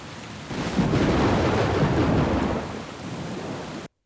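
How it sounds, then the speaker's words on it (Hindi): Steady heavy rain pours outside, joined by a deep rolling rumble of thunder that swells and holds loud before cutting off abruptly; no voices. "जूनियर, बाहर बारिश होने लगी है।"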